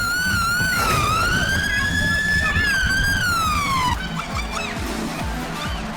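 A police car siren wails loud and close during a chase, its rising and falling tone sweeping steadily before switching to a quicker, choppier pattern, with road noise underneath.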